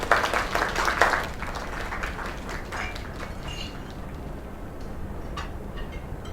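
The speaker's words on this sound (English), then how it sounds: "Another round of applause." Applause and clapping from a crowd in the video game Lake, after a performance, louder at first, then fading to a softer, steady patter.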